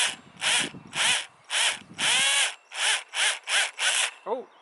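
A power drill whines in repeated short bursts, about nine pulses of grinding, high-pitched cutting through steel with brief pauses between, ending in a small squeak.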